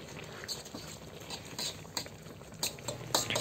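Laing, taro leaves in coconut milk, simmering in a pot, giving a soft, steady bubbling and faint patter, quiet and close, with occasional light pops and no talk.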